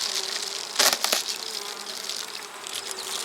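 A dense, steady buzz of many honeybees hums close by at an open hive, with a louder burst as some fly right past.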